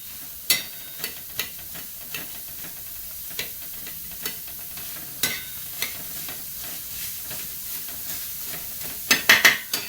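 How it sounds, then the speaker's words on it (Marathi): Chopped onion frying in a pan for dhaba-style egg bhurji, with a steady low sizzle and scattered sharp stirring clicks and scrapes that bunch into a louder cluster at the end, with no talking. "छान असा कांदा फ्राय करून घेऊ."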